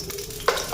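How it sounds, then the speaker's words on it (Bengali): Paneer frying in hot oil in a pan for a home-cooked Bengali meal, a steady close sizzle with brief sharper bursts of crackle near the end. "এখন পনিরটা ভাজা করুন"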